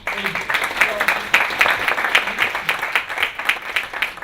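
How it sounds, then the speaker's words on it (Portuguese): A room of panel attendees at a Brazilian social-investment debate claps for Bruno, individual hand claps standing out in a lively, uneven patter that stays moderately loud throughout. "Acho que merece uma salva de palmas."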